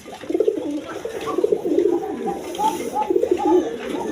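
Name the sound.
pigeons cooing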